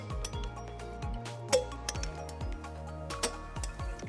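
Ratcheting and clinking of an 18mm socket tightening trailer hitch hardware on a 2020-2023 Porsche Cayenne, a series of close metallic clicks and ticks repeating at a steady pace with a few sharper clinks, no speech.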